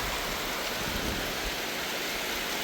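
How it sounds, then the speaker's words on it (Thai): Light rain falls steadily in a forest during mushroom foraging, a dense, even hiss that holds at the same level throughout with no voices. "ฝนมาแล้วหลังจากที่รอมานาน"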